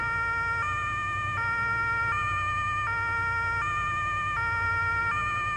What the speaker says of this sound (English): We're gonna use sirens because